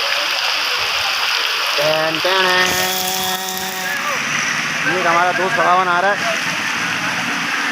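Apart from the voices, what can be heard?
heavy rain with wind in Karachi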